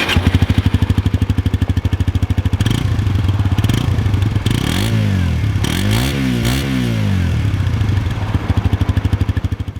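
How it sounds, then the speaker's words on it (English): Suzuki GSX-S125 motorcycle with a 125cc single-cylinder engine, heard alone and up close: a steady putter at idle, then a series of sharp revs that rise and fall, settling back to an even idle. "you can get a load of what the Suzuki GSX-S125 sounds like."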